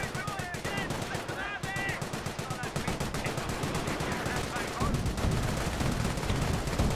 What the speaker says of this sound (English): Sniper to fire away.